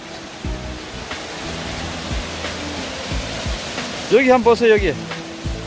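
Yukdam Waterfall in the Towang valley of Outer Seorak, Seoraksan, Gangwon-do, drops more than 40 metres into a deep, dark pool, giving a steady, close rush of falling water while someone speaks over it.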